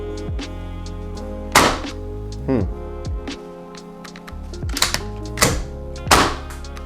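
An MW2 ACR replica gun fires indoors, giving single heavy thunks at uneven intervals rather than full-auto bursts, loud and close, with a voice talking between some of the shots.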